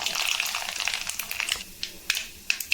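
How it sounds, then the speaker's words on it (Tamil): Mustard seeds sputter in hot sesame oil in a home kitchen while ginger garlic pickle is cooked: a quiet sizzle broken by sparse sharp pops and crackles, growing more distinct toward the end. "எண்ணெய் சூடாகிடுச்சு. கடுகு போட்டுடலாம்."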